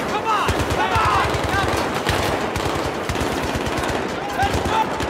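Automatic gunfire in the video game Battlefield 3, with rapid bursts rattling steadily throughout, mixed with battlefield noise.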